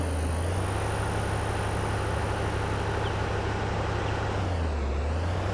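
Steady low rumble of a car engine in the video game Infestation, droning evenly throughout with a faint hiss on top and no talking.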